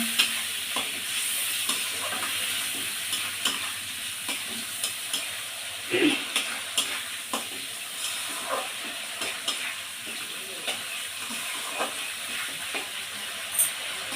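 Spice paste with dry chili powder and salt is sautéed in a pan for a jackfruit dish, with a constant sizzle broken by frequent stirring scrapes and spoon taps, close and steady, with no talking.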